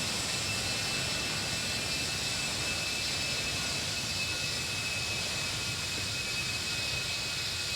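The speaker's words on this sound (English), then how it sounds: "And again, the engines don't sound as good as in the Fenix." Airliner jet engines in a flight simulator flying from Lisbon, a steady, dense roar with a thin high whine running unchanged throughout, no voices.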